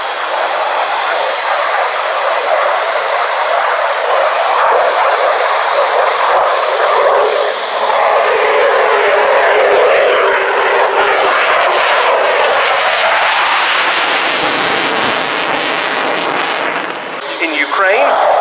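Aircraft flying at the RIAT air display at RAF Fairford, a loud sustained engine roar throughout that rises and sweeps as it passes near, with a narrator talking over it.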